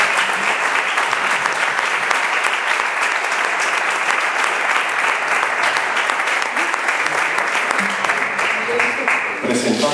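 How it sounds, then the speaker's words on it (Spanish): Sustained applause from an audience at a literary talk, dense and loud clapping that continues steadily throughout before tapering off with a few voices at the end. "Un fuerte aplauso para Santiago Lagra."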